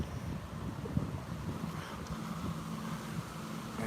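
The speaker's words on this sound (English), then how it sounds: "Sorry for the wind" Wind buffeting a microphone outdoors on a morning walk beside an old mill race, a steady low rumbling roar with a few stronger gusts, no talking.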